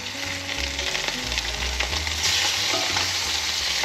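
Freshly caught fish sears in a hot frying pan with a loud, continuous sizzle close by. Occasional scrapes and stirring noises from the pan rise over the hiss, and nobody talks.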